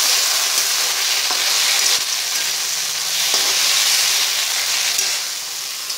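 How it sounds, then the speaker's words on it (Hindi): Chickpeas stirred with tomato sauce in a pan for a spicy chana dish, giving a dense, loud, continuous hiss and sizzle with faint scraping strokes throughout, no voices. "अब लास्ट में मैं टोमेटो सॉस डालूंगी इसमें और इसे अच्छी तरह मिला लूंगी"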